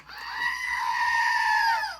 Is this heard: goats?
yes